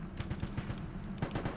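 Rapid automatic gunfire in the ARMA 2 military video game, a quick rhythmic burst of close shots that pauses briefly and then resumes.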